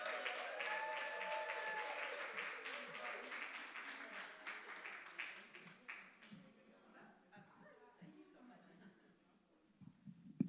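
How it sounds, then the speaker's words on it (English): An audience at a breast and ovarian cancer awareness program applauds and cheers as a speaker comes up, dense sustained clapping that is loud at first and gradually thins out and fades toward the end, with some voices mixed in. "let's all give a big old cheer for Sue as she comes up to speak for us"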